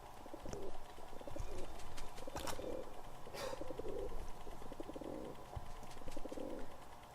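Cooing of a pigeon-like bird in the video game Stacking, soft repeated coos over a steady ambient game background.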